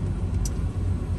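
A 1994 Ford Bronco running with the air conditioning on, a steady low rumble heard from inside the cab that fills the moment with no voices.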